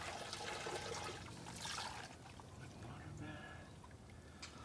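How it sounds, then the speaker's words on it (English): A plucked chicken gets rinsed in a water bath during a backyard meat-bird harvest, with close, continuous sloshing and splashing of water. "Let's give it a quick water bath here."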